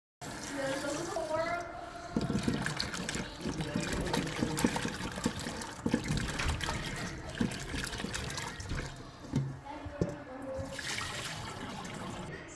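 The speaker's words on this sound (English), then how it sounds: "I rinse them well," Water trickles and splashes as fresh strawberries are rinsed in a kitchen, close and steady with uneven bursts, under a voice speaking over it.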